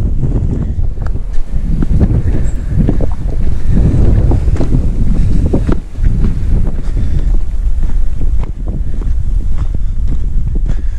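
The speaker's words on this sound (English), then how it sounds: "although it's windy" Strong wind gusts buffet the microphone on the beach at Saltwick Bay, a steady loud roar with surges and brief dips, with sea sounds beneath.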